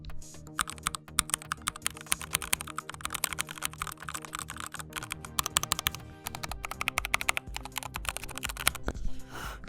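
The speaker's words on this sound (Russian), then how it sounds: "Я вам сейчас понажимаю, микрофон поднесу" Keys pressed rapidly on a Vickyboard mechanical ergonomic keyboard, giving dense, steady clicking and clacking held close to the microphone for about ten seconds, with no talking.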